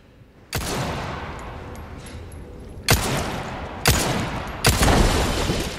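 Rifle fire in the Resident Evil 4 remake, four loud sharp shots spaced a second or two apart, each followed by a long booming reverberant tail.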